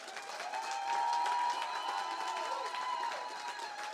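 A church congregation applauding and cheering, a sustained wash of clapping with crowd voices and whistles swelling then holding steady throughout.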